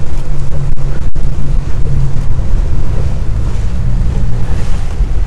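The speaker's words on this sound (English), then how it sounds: "He's got his engine off, he's sailing." A sailboat under sail with its engine off on open ocean, with a steady rush of waves and surf against the hull and heavy wind buffeting the microphone, loud and continuous, with one sharp knock early on.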